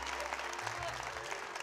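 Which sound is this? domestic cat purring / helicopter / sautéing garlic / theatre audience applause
theatre audience applause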